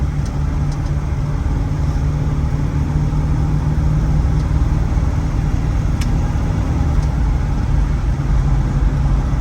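A black 1967 Ford Mustang fastback with a 390 big-block V8 drives along, its engine a steady, loud low rumble from inside the car with faint clicks and rattles over it.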